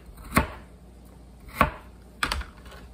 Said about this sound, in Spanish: Cortamos la zanahoria como a ustedes más les guste.